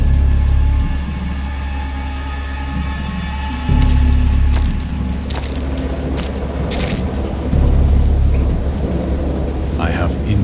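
A thunderstorm brings heavy, steady rain with low rumbling thunder rolling in several times, loud and close, with no one speaking.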